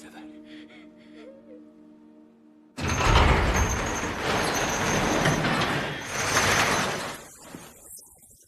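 Vehicles approach in a post-apocalyptic setting: quiet before a sudden loud broadband roar of engines and motion that holds steady for several seconds with a surge midway, then fades abruptly.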